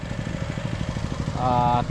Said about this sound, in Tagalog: Grass cutter nila to